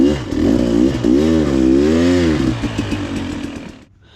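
A 2020 KTM 300 XCW two-stroke dirt bike fitted with an FMF Fatty exhaust revs hard and close, its pitch rising and falling in long sweeping waves before the engine drops away to quiet at the end.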